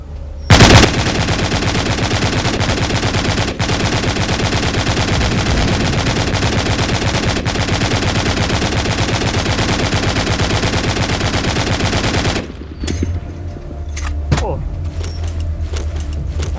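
Sustained automatic gunfire from the mobile video game The Walking Zombie 2 rattles loudly and continuously for about twelve seconds, then stops, leaving quieter game sounds.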